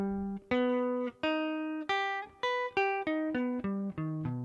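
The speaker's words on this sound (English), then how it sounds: "it's an augmented chord. So the chord sounds like this." An augmented chord on guitar, part of a jazz lesson for 6- and 7-string guitar, played as a slow arpeggio of about ten clean, ringing picked notes, each sustaining into the next, with no talking.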